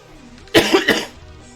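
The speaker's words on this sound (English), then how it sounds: "That cough needs to go away." A single close, loud cough burst with two or three rough pulses, surrounded by quiet.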